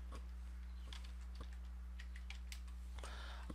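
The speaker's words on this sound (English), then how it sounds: "I could type totals here." Keystrokes on a computer keyboard during data entry in an Excel spreadsheet, a quick scatter of light, faint clicks over a steady low hum.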